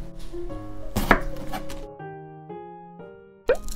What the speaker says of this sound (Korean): 가지는 반으로 자른 후 한 번 더 갈라주세요